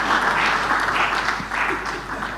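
An audience at an investment and capital markets session applauds in a sustained wash of clapping that swells and then gradually tapers off.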